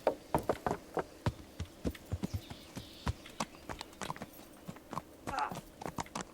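Horse hooves clopping in a steady rhythmic gallop in the video game Kingdom Come: Deliverance, close and distinct, with faint buzzing ambience in the background.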